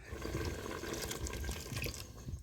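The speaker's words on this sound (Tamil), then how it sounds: "நம்ம 1/4 லிட்டர் தண்ணி வச்சுருந்தோம், அதையும் சேர்த்துக்கிறோம்." Water pours steadily into a pot of vegetable saalna on the stove, a soft continuous splashing and gurgling trickle, fairly faint and close, with no talking.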